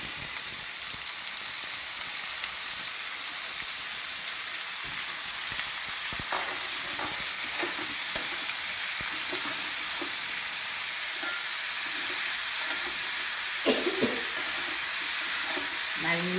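Sliced bitter gourd frying in hot oil with onion and curry leaves in a pan, a continuous soft sizzle and hiss broken by occasional scraping stirs.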